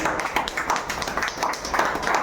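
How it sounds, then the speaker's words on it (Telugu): An audience at a business opportunity meeting claps loudly, a dense and continuous patter of many hands close by. "జోరుగా ఒకసారి క్లాప్స్ ఇవ్వండి"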